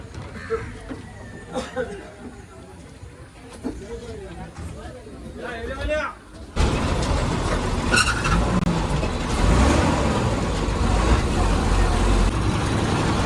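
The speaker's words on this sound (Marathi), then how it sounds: "तर मंडळी बस आता पोचलेली आहे हेऱ्यात." An MSRTC ST bus pulls in at the Hera stop, its engine rumble swelling into a steady loud drone over the second half, with people chatting nearby throughout.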